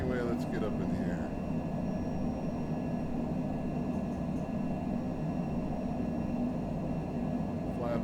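Airliner engines roaring steadily during a takeoff roll in Microsoft Flight Simulator 2020 from Las Vegas McCarran, a constant broad drone with faint tonal whine, while someone talks over it.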